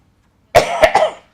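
A single close, sharp cough bursting into two or three quick hacking pulses, then silence.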